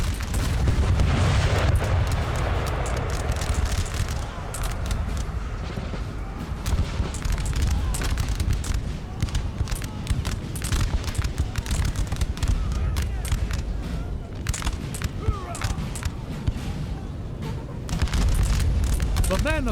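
Cannon fire in the video game Napoleon Total War, with repeated booming artillery shots over a constant battle din throughout.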